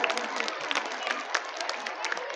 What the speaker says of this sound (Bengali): মেয়েরা জোরে হাততালি দিতে থাকো